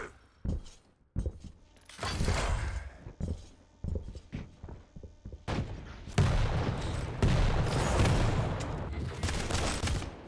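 Shotgun blasts and rapid gunfire ring out during a competitive first-person shooter duel, with a string of sharp separate shots giving way to dense, sustained volleys of loud firing.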